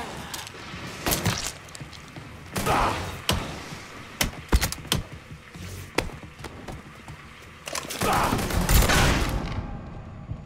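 Gunfire from a video game shootout in Mafia 3, with sharp single shots and quick bursts at uneven intervals, close and loud, building into a heavier volley before trailing off.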